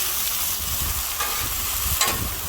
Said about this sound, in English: give these a stir.